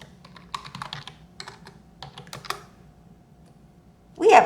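Quick bursts of typing on a computer keyboard, light clicking keystrokes in irregular clusters, close and fairly quiet, ending with a brief louder sound.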